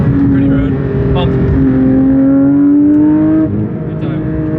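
Porsche 992 GT3 RS sports car engine driving on a mountain road in the Smokies, its note climbing in a steady, close drone with rumble underneath and some voice-like sound mixed in.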